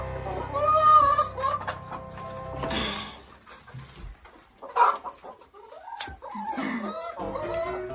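Domestic chickens on a backyard farm cluck and murmur at feeding time, with several birds calling close by in short irregular bursts, a louder squawk partway through, and scattered noises of movement around them.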